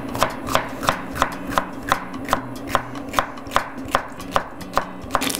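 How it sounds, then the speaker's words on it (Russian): A knife chops bell pepper into thin strips on a cutting board for Thai-style noodles, with steady, evenly spaced close knocks, about two per second, continuing without talk. "Его также нарезаем тоненькой соломочкой."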